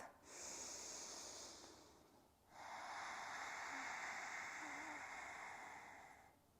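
Deep breathing during a yoga flow: a long, audible inhale followed after a brief pause by a slow, steady exhale, close and soft, with no talking.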